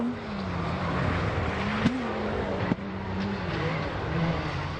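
A Milner rally car races along an off-road stage of an all-wheel-drive championship, its engine note droning and shifting pitch at a moderate distance with a couple of brief sharp knocks.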